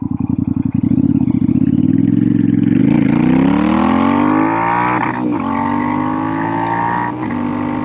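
A Royal Enfield Shotgun 650 motorcycle engine climbs from a pulsing lope to a loud sustained high rev held at the limiter, close and dominant, with brief dips where the revs waver.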